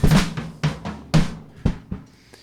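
Drums run through the Airwindows ADClip clipper plugin give a short burst of loud, punchy kick and snare hits with decaying cymbal wash, about five strong strikes in quick succession.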